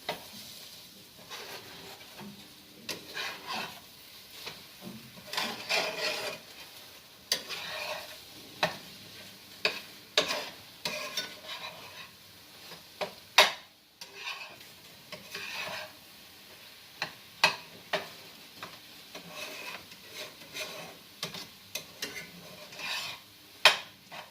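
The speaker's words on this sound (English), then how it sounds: "let me stir my eggs really quick. I don't want them to burn" Eggs being stirred in a frying pan while batch cooking, a soft scraping and sizzle with repeated sharp spatula scrapes and taps against the pan, steady and close with no talking.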